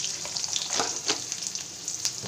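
Green chili and garlic cloves with a little salt frying in oil in a pan, producing a close, continuous sizzle with brief crackling spurts.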